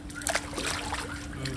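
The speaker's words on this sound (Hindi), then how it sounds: "ये डाइव मारी भाई साहब ने" Water splashes in a home swimming pool as someone dives in, a short broad splash burst with sloshing and dripping water, heard under ongoing speech.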